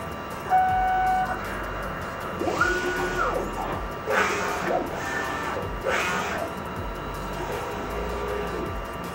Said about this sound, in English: click on check nozzle, the machine will get itself going